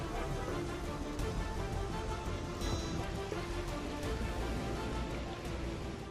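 Heavy monsoon rain pours down steadily over flooded Mumbai streets, a dense, constant roar of falling water heard alone with no voices, loud and close throughout.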